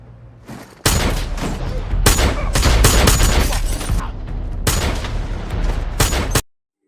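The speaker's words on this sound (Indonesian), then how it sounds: "Edge dengan begitu santainya menembak semua perampok dengan akurat." Loud gunfire from an action film scene, dense rapid volleys of shots in several bursts over a few seconds before cutting off abruptly.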